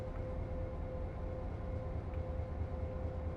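A train running in the video game Train Sim World 5, a continuous low rumbling drone with a steady tone, even and unbroken throughout.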